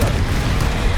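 A Confringo fire spell explodes in Hogwarts Legacy, a short dense rumbling burst that stays loud and full through its brief length.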